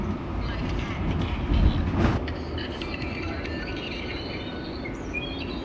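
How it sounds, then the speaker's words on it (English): A train rumbles steadily along the rails with a rattling, clanking undertone, high squeaks now and then, and muffled voices in the background. "We're on the train."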